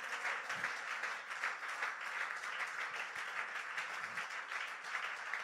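Faint, distant applause from a church congregation, a steady wash of many hands clapping that holds evenly throughout, with a little indistinct voice beneath it.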